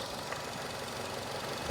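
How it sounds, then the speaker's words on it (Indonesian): Steady low idling hum of a 2010 Nissan Grand Livina 1.8 car engine, even and continuous at close range with no rough knocks. "Dan ini suara mesinnya"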